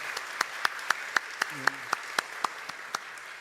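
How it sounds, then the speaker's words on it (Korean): At a Korean church Sunday worship service, a congregation welcomes visiting guests with fairly faint applause, led by crisp, evenly spaced claps close by, while a voice speaks briefly partway through. "우리 크게 환영하고 박수해 주시기 바랍니다."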